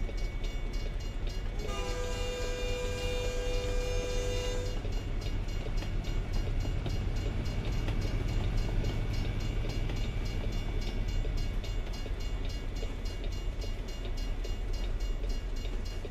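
A passing train in a truck-driving video game, its horn blaring for a few seconds over a constant rumble of rolling wagons that continues steadily after the horn stops.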